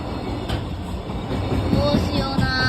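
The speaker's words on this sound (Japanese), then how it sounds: "初めての貨物です。" A freight train rolls past a railway crossing in Japan, a loud, steady rumble of wheels and wagons close by with faint squeals and rattles, continuous throughout and no talking.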